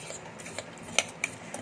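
A utensil stirs rice in a kettle while Bengali-style basonti polao is cooked, making a few soft, sparse scrapes and light metallic clinks, close and unaccompanied by talk.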